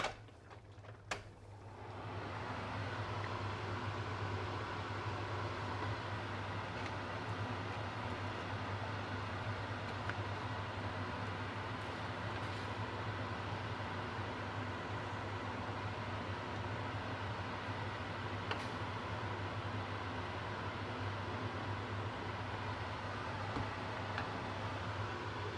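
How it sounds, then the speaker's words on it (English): A kitchen range fan runs over a stove where spaghetti water is boiling, a steady close whooshing roar with a low hum that switches on and holds unchanged. "Turn on the fan, sorry for the sound."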